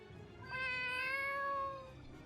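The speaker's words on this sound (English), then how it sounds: "Is that your cat?" A cat meows once in a long, drawn-out cry, close and clear over a quiet game backdrop, with no talking.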